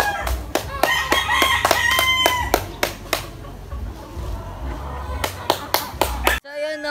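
A bird beats its wings in quick bursts of papery flaps, close and loud, in two clusters with a quieter gap between them. Crowing and clucking fowl carry on in the background.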